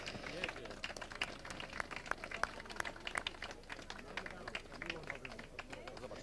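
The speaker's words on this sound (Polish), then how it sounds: "zaproszeni goście i wielkie, wielkie brawa" Guests clap at a season opening event, with distinct scattered claps from a modest group, fairly quiet and somewhat distant, with murmuring voices underneath.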